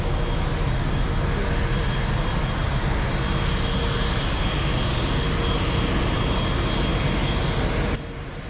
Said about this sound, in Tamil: குட்டியூண்டு ஃப்ளைட்டுங்க.